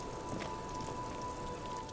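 Steady rain falling in the game Disco Elysium, a soft, even hiss of drops with a constant faint tone running through it, quiet and unbroken, with no voices.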